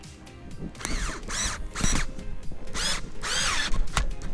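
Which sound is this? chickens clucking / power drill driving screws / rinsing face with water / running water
power drill driving screws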